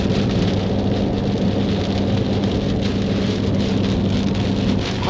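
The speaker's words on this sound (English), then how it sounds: "Hopefully you can hear me over this rain" Heavy rain pours steadily during a storm on a long road trip from Western Australia to Victoria, a loud, dense, constant wash close by with a low rumble beneath it.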